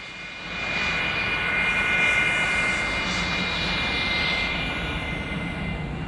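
Aircraft engine droning steadily at an air show as a plane taxis, a broad, continuous roar with a faint whine on top, fairly loud and with no one speaking.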